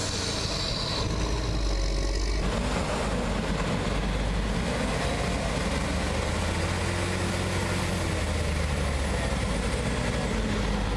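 A Claas Axion tractor strains to pull a John Deere trapped in mud, its heavy engine roaring continuously and loudly with a grinding low rumble as tires slip in the mire.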